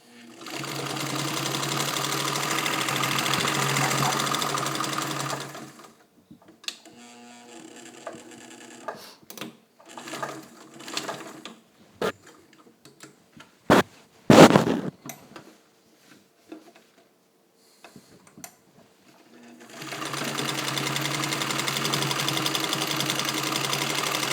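A serviced Singer 66-18 Centennial sewing machine with crinkle finish runs at a steady, loud mechanical whir in two stretches, one at the start and one at the end. Scattered clicks and knocks fill the quieter middle.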